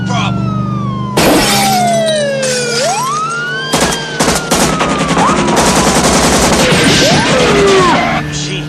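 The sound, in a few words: machine gun fire in a film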